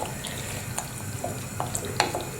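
Water runs steadily from a tap into a kettle, a soft continuous stream with faint drips and clinks, no voices.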